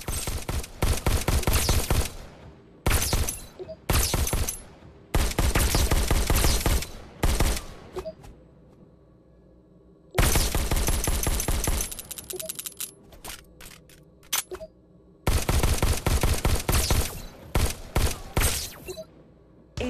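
Pistol shots in the virtual reality game Robo Recall ring out in several loud rapid volleys, separated by short quiet gaps, with no voices over them.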